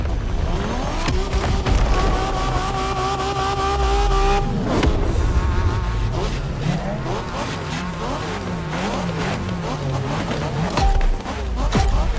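A car revs and accelerates through gear changes in The Crew Motorfest, a Japanese street racing event, with rising and falling engine tones and tire noise, loud and continuous throughout.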